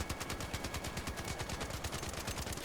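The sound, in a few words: Tempest level 4 gun firing in video game Arc Raiders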